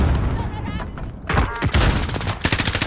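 Gunfire in the Call of Duty: Modern Warfare video game, loud rapid automatic bursts and overlapping shots in a chaotic firefight, with a dense rattling volley near the end and players shouting over it.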